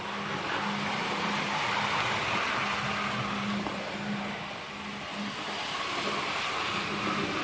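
A Hornby BR 60022 A4 Class model locomotive running flat out, a continuous steady whirring hiss with a faint motor hum, close and unbroken.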